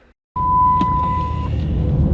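Truck tire pressure warning chime: a single clear electronic tone lasting just over a second, heard inside the cab over steady engine rumble after a brief silence.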